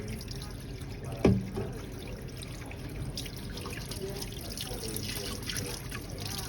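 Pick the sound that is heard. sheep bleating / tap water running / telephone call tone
tap water running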